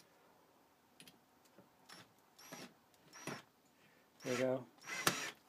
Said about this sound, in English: I'm going to jam the head all the way down into the pipe, and then I'm going to run this screw down into it.